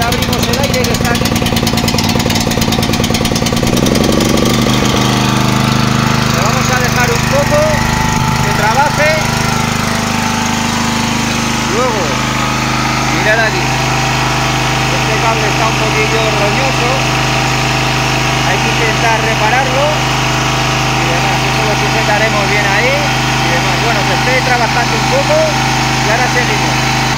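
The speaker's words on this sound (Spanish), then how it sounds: "Generador ahí arrancado unos 10 minutos" A petrol generator runs steadily after being started, a loud continuous engine drone with a constant vibrating rumble throughout, with some intermittent rattles and knocks over it.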